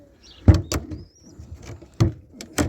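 A door being shut at a pigeon loft, several sharp knocks and clatters spread across a few seconds, with birds cooing faintly in the background.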